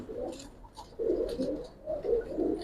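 Giribaz pigeons, green-necked and black-necked birds kept for sale, cooing in soft repeated rolling phrases, close by with no voices over them.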